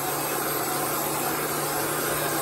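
A hair dryer blows steadily on a Chalk Couture chalk transfer, a continuous loud whooshing hum with no breaks across the whole stretch.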